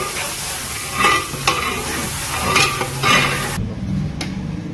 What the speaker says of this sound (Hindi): और ये 5 kg मीट लिया गया है और फिर इसको आपने फ्राई करना है।